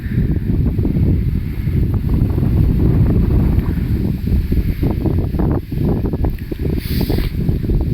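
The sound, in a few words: wind blowing across a wheat field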